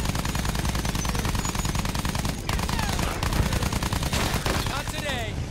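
Rear gunner's machine gun firing in Battlefield 1, rapid continuous bursts of loud gunfire running throughout, with engine noise beneath.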